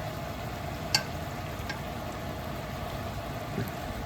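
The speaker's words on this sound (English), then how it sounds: "I'm like just boiling this meat instead of grilling it." Steak simmering in a pan with too much Worcestershire sauce, boiling rather than searing, giving a steady low bubbling sizzle throughout with a couple of small clinks, and no talking.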